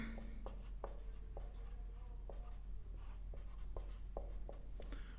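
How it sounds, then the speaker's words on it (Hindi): Writing on a board during a lecture: close, scratchy strokes come in an irregular series of short marks and taps over a steady low room hum. "यहां से लिख रहा हूं मैं"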